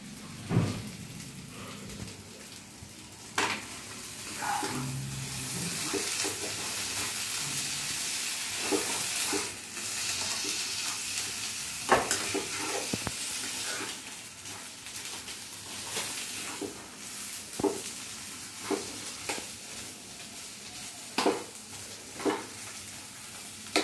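Potato and cauliflower filling for aloo gobi paratha frying in a pan, a steady soft sizzle broken by scraping stirs and spatula taps recurring every few seconds, close and moderately loud with no talking.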